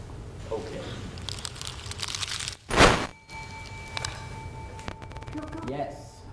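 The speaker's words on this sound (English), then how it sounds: "Crunching paper." Paper being crunched as a guess-the-sound game show prompt, a burst of crumpling crackle that peaks sharply midway, with faint background voices and room noise around it.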